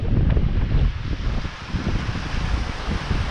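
Strong wind gusts of about 33 knots buffet a sailboat heading across open sea in the Gulf of Patras, a loud, rough, continuous rush with surging bursts and water noise underneath.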